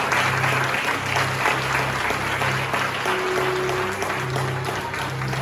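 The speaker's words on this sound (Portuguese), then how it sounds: "Aplauda o Senhor." A congregation applauds during a church communion service, dense steady clapping lasting several seconds, with a faint sustained tone and low hum underneath.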